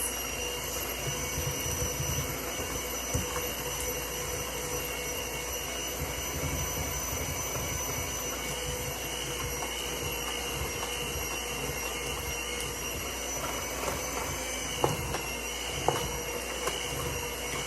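Stand mixer beating gluten-free sourdough at medium-high speed, a steady, loud motor whir that runs without a break, with a few faint clicks near the end and no voices.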